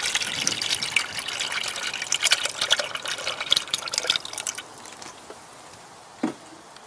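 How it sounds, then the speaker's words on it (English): Engine coolant pours steadily into a funnel with a gushing, splashing rush for several seconds, then thins to a quiet trickle with a brief splash near the end. "You can just pour coolant in."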